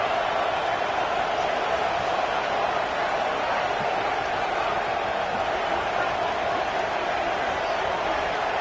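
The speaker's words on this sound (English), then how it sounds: "here comes the crowd noise" A continuous roar of a large football stadium crowd fills the space, a dense steady wash of distant voices with no single sound standing out.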